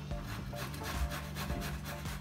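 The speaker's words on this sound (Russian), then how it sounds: "Я беру свеклу отварную и натираю на крупной терке." Boiled beetroot is rubbed against a coarse grater in quick repeated rasping strokes, close up and steady for the whole stretch, with no talking.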